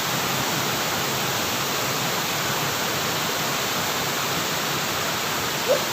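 Dampalit Falls pours in a steady, loud broadband roar of falling water that stays unbroken throughout, with only a tiny brief knock near the end.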